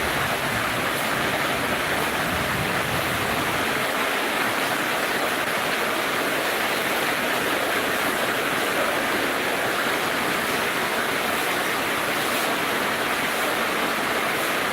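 Heavy rain and rushing floodwater at night in Medan make a dense, steady hiss that stays loud and unbroken throughout.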